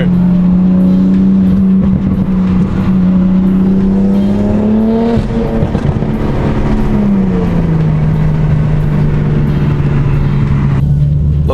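A BMW F82 M4 with a Valvetronic exhaust drones loudly and steadily through an open window, its pitch climbing then easing back as the revs change, with no talking.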